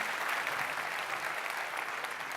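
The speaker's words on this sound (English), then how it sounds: "Round of applause for the drum line" Applause for a drum line at EA's E3 2017 press conference fills a large hall, with a crowd clapping steadily and evenly throughout, heard at a distance and fairly quiet.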